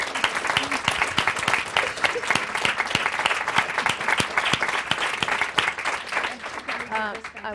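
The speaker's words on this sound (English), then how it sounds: "So can we just all give this a fantastic panel a round of applause?" Sustained audience applause for a panel discussion, dense clapping that stays loud throughout, with a voice and cheering mixed in near the end.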